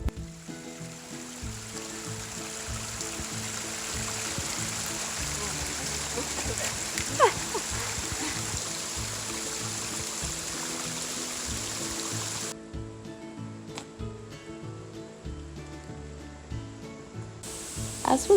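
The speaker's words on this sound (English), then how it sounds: "Dalton Falls was absolutely pumping." Dalton Falls on the Overland Track, swollen by recent rainfall, sends up a steady, full roar of rushing, splashing water. The sound drops to a thinner, quieter rush in the final few seconds.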